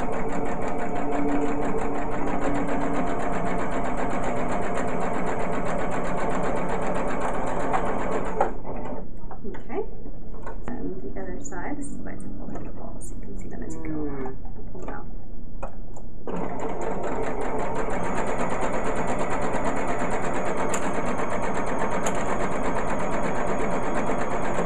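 Home sewing machine stitching the side seams of fabric, a loud steady motor whir with a rapid needle patter that stops briefly midway, then resumes; a person talks during the pause.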